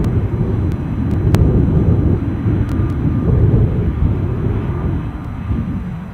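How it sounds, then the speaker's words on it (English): A Qatar Airways Boeing Dreamliner on final approach at Edinburgh airport: a steady, broad low engine rumble holds throughout, fairly loud and close, with a faint tonal whine above it and no talk. "Our Qatari Dreamliner on finals"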